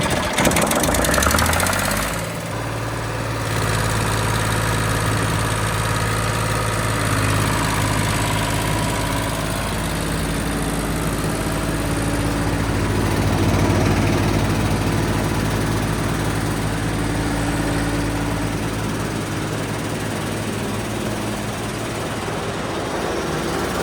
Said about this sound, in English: So it's only got this little tiny engine in, so it just drives these big hydraulic pumps there